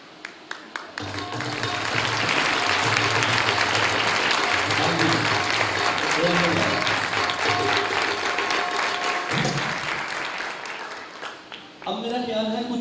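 A church congregation breaks into loud, sustained applause that swells quickly, holds for several seconds, then fades before a voice speaks at the end.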